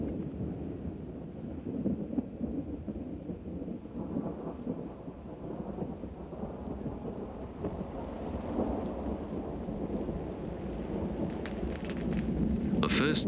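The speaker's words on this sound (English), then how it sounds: "The first threatening storm sweeps in, encircling Malcolm so quickly he barely has time to boil the billy." Thunderstorm sweeping over black soil plains in outback Australia: continuous rain hiss with deep rolling thunder rumbling throughout, close and heavy, swelling toward the end.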